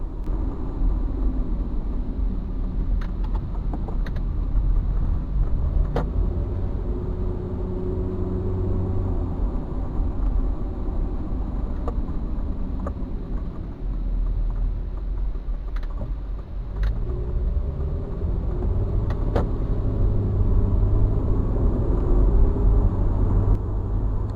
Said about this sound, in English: as I drive the car around the block